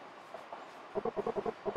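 Train running in the pixel-art video game Eastward, a rhythmic clickety-clack of about eight evenly spaced chugging beats over a soft background, with no voices.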